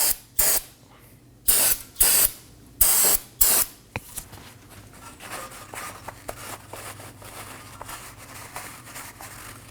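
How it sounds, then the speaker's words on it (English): Brake cleaner sprayed onto the rear wheel hub of a 2015-2023 Nissan Maxima during a wheel bearing and hub replacement: five loud, sharp hissing bursts close to the mic, then softer rustling and scraping. "Now I'm going to finish off with some brake cleaner and a rag."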